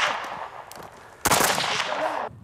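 A rapid string of rifle shots emptying the magazine at a shooting range bursts out after a brief lull, firing continuously for about a second before stopping abruptly.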